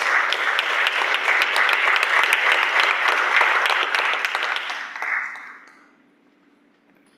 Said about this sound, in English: Please give him a big round of applause while he joins us on stage.